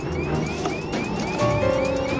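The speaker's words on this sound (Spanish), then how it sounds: "Es la alarma de altitud de cabina." A Learjet cabin altitude alarm sounds inside the cockpit: a quick series of repeating rising electronic chirps over steady cabin noise, joined partway through by a sustained steady tone.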